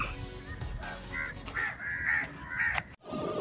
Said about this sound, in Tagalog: Napakaingay ng mga ibon na to. Kwak ng kwak.